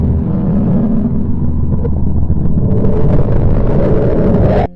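Sonified vibration of the planet Mercury, a dense, loud, continuous low rumble with rushing, wind-like texture that swells slightly before cutting off abruptly at the end.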